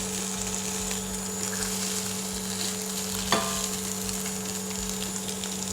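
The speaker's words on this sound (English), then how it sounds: "And I stir fry, continue fry." Carrot and plant-based char siew being stir-fried for a vegetarian yam puff filling, a steady close sizzle with scraping stirring and one sharp clack of the utensil midway.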